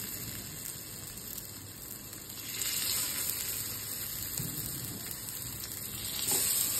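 Hara bhara kebabs frying in hot oil in a pan, a steady close hissing sizzle that swells in intensity partway through and again at the end.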